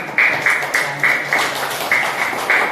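A small classroom group giving a round of applause during a lesson, sparse rhythmic claps in short repeated bursts, moderately loud and near, with no talk over them.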